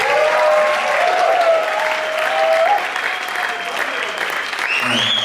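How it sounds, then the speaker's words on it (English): A concert audience at the Parkway Theater claps in a sustained round of applause for the band at an album release show, dense and loud throughout, with a voice briefly audible over it. "one more round of applause for these guys."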